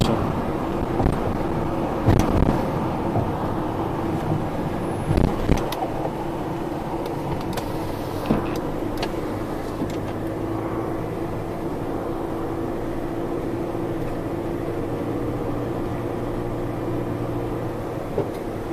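A car drives along a road, heard from inside as a steady low rumble of engine and tyres that holds for nearly twenty seconds, with a few bumps and knocks near the start.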